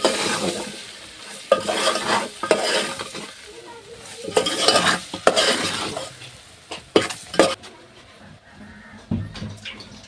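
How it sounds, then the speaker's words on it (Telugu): Sliced onions fry in hot oil in a pan for a village-style egg curry, with a steady sizzle broken by repeated scraping stirs of a spoon against the pan, close and fairly loud. "ఓకే, ఉల్లిపాయలు వేస్తున్నాను."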